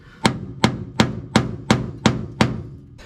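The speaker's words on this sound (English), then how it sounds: "should you use a claw hammer to do body work on your inner fender?" A claw hammer strikes the inner fender of a barn-find Edsel seven times in a steady, evenly spaced rhythm, each blow a sharp, close metallic bang with a short ringing decay.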